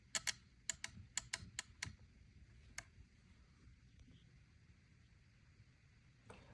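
A burst of sharp, close clicks in quick succession, then a couple of isolated clicks after a pause, as the internal contacts of a Schmersal SRB301ST safety relay close.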